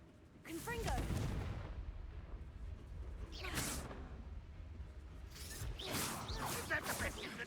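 The Confringo fire spell cast in Hogwarts Legacy: several loud whooshing blasts and booming impacts in quick succession, with voices in the game mixed among them.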